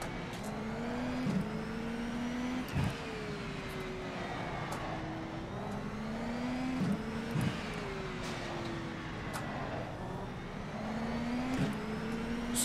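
IndyCar race car engine in rFactor 2 at the Detroit Grand Prix street circuit, a steady high-pitched whine rising and falling through repeated upshifts and downshifts with short sharp blips between gears, with no one talking.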